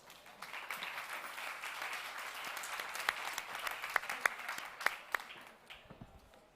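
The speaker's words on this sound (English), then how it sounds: "please a big applause for Peter de Keizer" An audience applauds a moderator being introduced at an evening panel event, a steady wash of clapping lasting several seconds with a few sharper individual claps standing out near the end.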